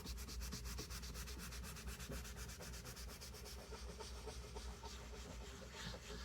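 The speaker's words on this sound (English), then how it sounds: "Let's give it a good scrub" A pan bottom being scrubbed with baking soda and white vinegar, heard as fast, rhythmic, close scrubbing strokes that continue steadily and loudly with no talking.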